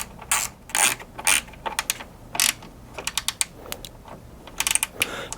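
Ratcheting a fastener tight while installing a Redline Tuning hood strut on a Jeep JL, a loud close string of sharp clicking bursts in uneven spurts with short pauses.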